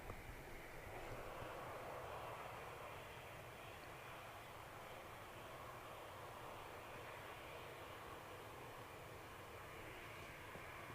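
An aircraft lines up on runway 05 left at Manchester Airport, its engines making a faint, steady, distant rumble and hiss that continues evenly with no voices.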